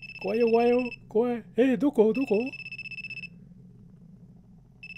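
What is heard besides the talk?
telephone ringing in a mobile horror game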